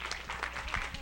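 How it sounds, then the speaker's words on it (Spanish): A brief burst of audience applause for a doctor at the close of a talk, dense scattered clapping at steady loudness with no pause for about a second. "Un aplauso para el doctor."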